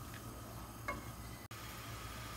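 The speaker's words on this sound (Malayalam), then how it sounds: "ഇപ്പോൾ വെള്ളം നന്നായിട്ട് തിളച്ചിട്ടുണ്ട്." Water boiling steadily in a pan while making boondi ladoo, a continuous low bubbling rumble with one brief stir partway through and no talking.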